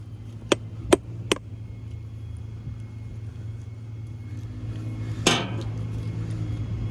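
A chisel strikes the soft lead of a forklift battery, three sharp metallic taps in quick succession, then a louder scraping impact after a pause, close by over a steady low hum with no talking.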